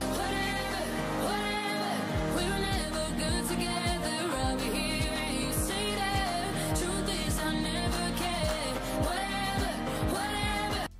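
Dense pop-dance track built on a sample of an earlier hit song, with a steady thumping beat, bass and layered synths playing loud and continuous throughout.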